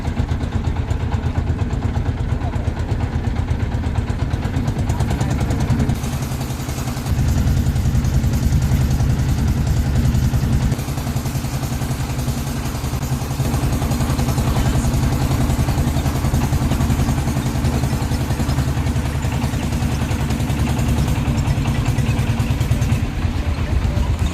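A fishing trawler's engine runs near the Dublar Char shoals in the Sundarbans, a loud, steady low throbbing drone with rattling clatter that continues throughout, dipping briefly before resuming.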